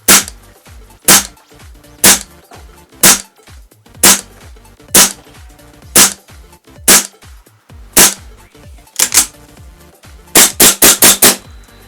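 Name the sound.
KJworks KC-02 gas blowback airsoft rifle test firing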